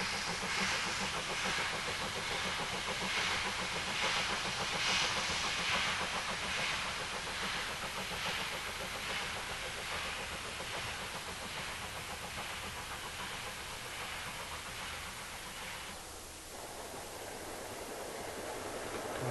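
Steam locomotive Bahamas hauling a passenger train on the Keighley and Worth Valley Railway, a distant rhythmic chuffing with hiss and rolling rail noise, steady and fairly faint throughout.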